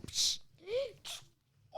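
A single short sneeze, with a sharp hissy burst and a breathy tail, followed by a brief murmur of speech.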